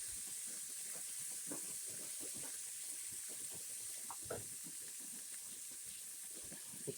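Shrimp sizzling in melted butter in a pan, a steady close hiss with faint scattered crackles and pops throughout, no one talking.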